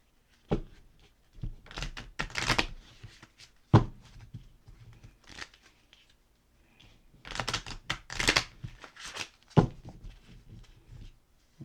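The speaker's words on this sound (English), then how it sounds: "Shuffle these up good. Get a nice little shuffle." A deck of cards is shuffled by hand, with brisk riffling bursts separated by pauses and occasional soft taps as the cards are squared.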